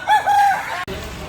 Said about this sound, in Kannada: ತುಂಬ ದೊಡ್ಡ ದೊಡ್ಡ ಸೈಜ್ ಇರುವಂಥ ಕೋಳಿಗಳು. ಆಮೇಲೆ ನಾಟಿ ಕೋಳಿ.